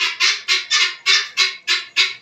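A chicken on a farm gives a run of eight loud, evenly spaced squawking calls, each a short harsh burst close to the listener with brief gaps between.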